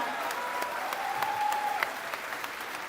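An audience at a public discussion event in Yogyakarta applauds steadily, a dense wash of clapping at moderate loudness that continues evenly throughout.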